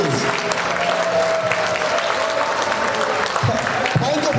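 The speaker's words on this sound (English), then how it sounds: "let's give a big round of applause for all the families" A gala audience at the America Nepal Medical Foundation's annual convention applauds the families. Dense, loud, sustained clapping fills the room throughout, with voices underneath.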